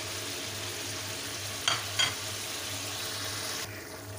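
Garlic and ginger hit hot oil with frying chicken for charsi karahi, giving a steady, close sizzle with a couple of sharp scraping stirs of the spoon partway through.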